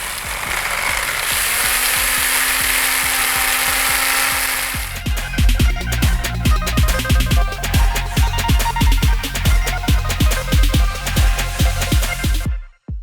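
A blender whirs steadily with sugar inside, then shifts into a rapid, rattling, pulsing grind for several seconds before cutting off abruptly; no voices.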